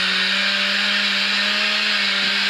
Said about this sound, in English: Work that mixer